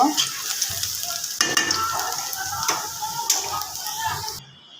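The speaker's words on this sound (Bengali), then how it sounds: "এই যে এখানে আমার পেঁয়াজটা ভাজা হয়ে গেছে এখন আমি আলুর মধ্যে দিয়ে দিব" Fried onions sizzle steadily in a frying pan while a utensil scrapes and stirs them into mashed potatoes in repeated strokes, close up.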